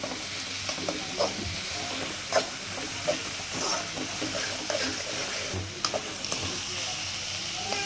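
Egg stir-fry frying in oil in a pan, a steady soft sizzle with scattered stirring scrapes and light clinks, fairly close, with no voices.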